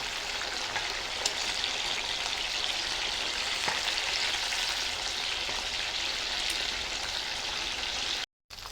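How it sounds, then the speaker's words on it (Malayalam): Chicken pieces dry fry in a pan with a dense, even crackling sizzle that stays steady and close throughout, broken only by a brief cut near the end. "അല്ല ചിക്കൻ ഫ്രൈ പീസുകളിൽ ഒന്ന് മറിച്ചിടാം"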